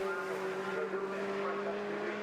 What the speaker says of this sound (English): Jamie Stanley then now powers past the pits.